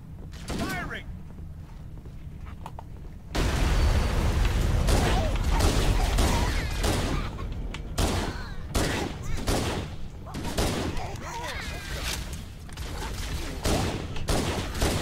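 Dense gunfire in Halo: The Master Chief Collection rattles as loud, rapid bursts of shots and explosions, sustained for several seconds and then breaking into shorter volleys, with voices talking over the battle.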